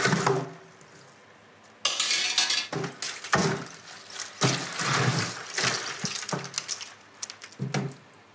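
A bowl of ice water being prepared in a kitchen while a Breton blue lobster cooks: bursts of pouring and splashing water with clinks of a bowl and ice, separated by short quiet pauses.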